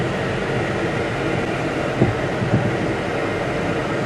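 A rough-running junk derby car engine gives a steady, droning mechanical rumble with a couple of brief knocks partway through.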